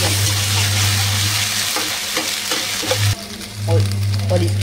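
Ginger-garlic paste sizzling and frying with onions in a pan while preparing Maggi noodles, a steady loud crackle with stirring scrapes throughout and no voices.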